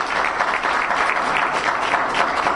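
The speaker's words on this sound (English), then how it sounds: "I would like all of you to give Bertha a round of applause," An audience at a forum in a seminary hall claps for a guest in a dense, steady round of applause that carries on throughout at close, fairly loud level.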